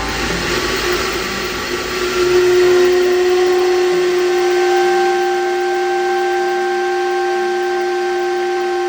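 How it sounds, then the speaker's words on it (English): A sternwheeler steamboat whistle on the Snoqualmie River sounds a steady, loud, sustained tone that swells in after a couple of seconds and holds with rich harmonics, alone and without talk. "Let's start this off with a sternwheeler whistle."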